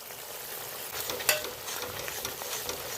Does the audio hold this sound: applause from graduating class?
no